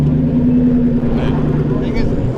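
A car engine rumbles steadily at close range with a low idle hum, while people talk over it.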